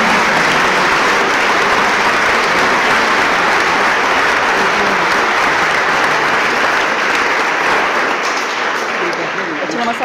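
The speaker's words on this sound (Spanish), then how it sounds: "Aplausos para Dariana" Church congregation applauding for Dariana during a service with Padre Luis Toro, dense loud continuous clapping throughout that thins slightly at the end, close and enveloping.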